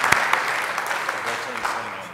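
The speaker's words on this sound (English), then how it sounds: "everyone give him a big round of applause" Applause at a city council regular meeting, a steady spread of clapping from the chamber audience holding fairly even for a couple of seconds at moderate distance, with a voice faintly mixed in.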